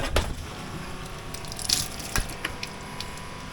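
A boat's watermaker back-flushing its filter with fresh water gives a steady wash of running water with a few drips and splashes, heard close and moderately loud with no talking.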